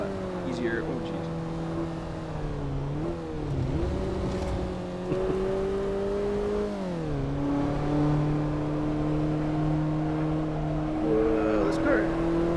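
A car engine in the racing game Assetto Corsa, driven on LA canyon roads, revs steadily with rising and falling harmonic whine through repeated gear changes, loud and continuous throughout.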